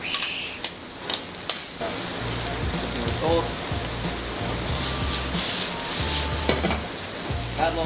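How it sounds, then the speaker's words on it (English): Chicken stir frying in a hot wok, with a loud, steady sizzle and crackle broken by the scrape and clatter of stirring, close up, with no voice over it. "You wanna hear that sizzle."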